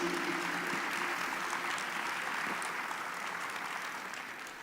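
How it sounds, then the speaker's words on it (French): Audience applause after a presentation of Swiss web video productions from 2018, a dense steady wash of clapping that holds loud throughout and fades slightly at the end, with a brief faint voice near the start. "vous pouvez les applaudir"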